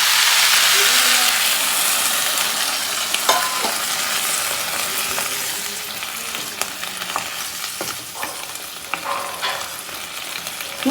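Chicken stew with potato, carrot and added second coconut milk bubbles in a pot with a loud, close hiss that gradually softens, broken by repeated spoon scrapes and clinks as it is stirred.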